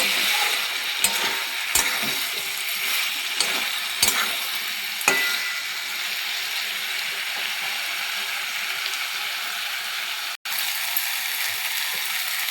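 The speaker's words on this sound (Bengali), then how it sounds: "সামান্য জল দিলাম, নেড়ে নেব ভালোভাবে" Potato and elephant foot yam curry is stirred in a pan after a little water is added, producing a steady soft sizzle with intermittent scraping clicks of the spoon, close and alone without talk.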